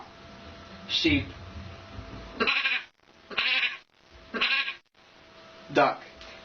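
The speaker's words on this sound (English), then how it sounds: "Sheep." Sheep bleat in four or five short, separate, fairly faint calls spaced about a second apart, with a quiet background between them.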